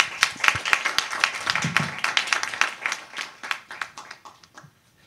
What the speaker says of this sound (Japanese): 改めまして皆様拍手でお願いいたします。